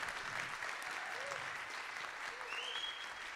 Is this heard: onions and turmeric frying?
no